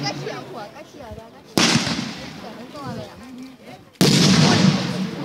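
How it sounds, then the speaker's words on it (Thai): Two loud, close artillery shell blasts hit during a Thai army unit's military demonstration, each a sudden booming burst that lingers, separated by a few seconds of someone talking. "พอระเบิดตุ้มขึ้นมากล้องหลุดมือไปเลย"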